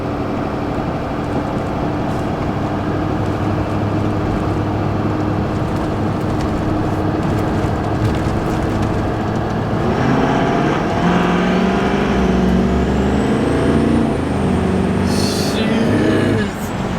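A 2006 LB7 Duramax diesel truck built to over 750 wheel horsepower accelerates hard, its engine a steady, loud drone from inside the cab that swells and rises in pitch toward the end.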